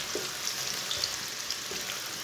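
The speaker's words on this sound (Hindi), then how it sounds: "एक बारीक कटा हुआ प्याज। प्याज को ब्राउन कर लेंगे।" Finely chopped onion browning in ghee in a pan with whole coriander and cumin seeds, a continuous close hiss of frying with faint crackles, steady throughout and without speech.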